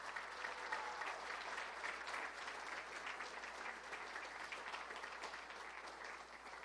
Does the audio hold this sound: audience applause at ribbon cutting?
yes